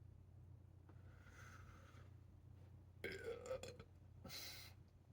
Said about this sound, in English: The burp is part of it.